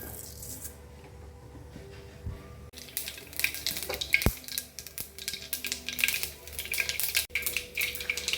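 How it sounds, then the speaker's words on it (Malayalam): Mustard seeds popping in hot coconut oil in a pan, a dense run of quick crackles and sputters that builds after a quiet start, close and moderately loud, with occasional utensil clinks. "കടുക് പൊട്ടിയിട്ടുണ്ട്."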